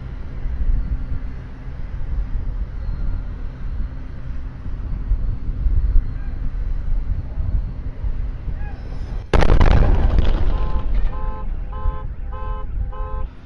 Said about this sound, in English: There was a tremendous flash fire followed by a sonic boom-like sound.